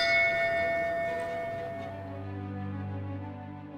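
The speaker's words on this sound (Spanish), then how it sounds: "no pueden dejar de hacer una cosa, y esto es tocar esta campana" A large bell in an aviation museum rings out once, its bright metallic strike decaying into a long sustained hum with no voices.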